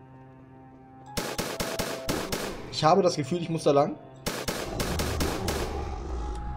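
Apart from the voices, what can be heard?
gunfire in a video game (Gamer Simulator)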